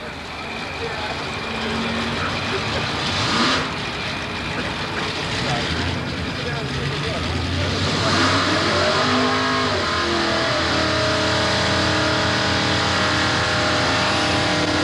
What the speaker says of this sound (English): his 29 Model A Town Sedan with an almost stock four-cylinder